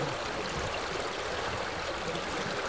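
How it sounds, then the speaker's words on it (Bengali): River water in the Sundarbans mangrove forest flows steadily as the tide rises, giving a constant rushing wash with no speech over it. "এবারে নদীতে জোয়ার উঠছে"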